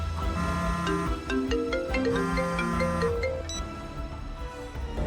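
A phone ringtone plays a bright melodic tune of repeated rising and falling notes for several seconds, loud and clear, then fades out with no talk over it.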